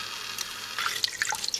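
Water trickles and splashes into an Instant Pot, poured over salt, bouillon and bay leaves, with soft irregular drips and splashes that build toward the end, close and fairly quiet with no talking.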